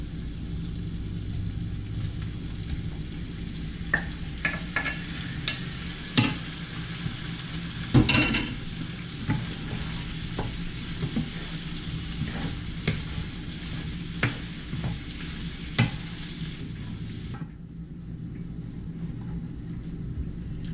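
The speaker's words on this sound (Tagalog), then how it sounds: "Ito yung ating piniritong pork belly" Pork belly fries in a pan with a steady, close sizzle, punctuated by scattered sharp pops and the scrape of stirring, with no voices.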